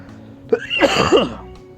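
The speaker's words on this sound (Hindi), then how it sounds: "खांसी आ रही है, सॉरी।" A single harsh cough, close and fairly loud, with a rough throaty burst that trails off after about a second.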